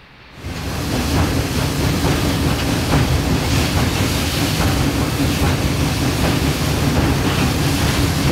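Southern Railway #4501 steam train rolling along former Southern Railway track near East Chattanooga, heard as a steady, loud rumble with faint rhythmic rail clatter throughout.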